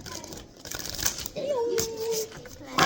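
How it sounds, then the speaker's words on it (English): Oracle cards being shuffled in a few soft papery bursts, close and light, with a voice murmuring over part of it. "Let me shuffle one more time."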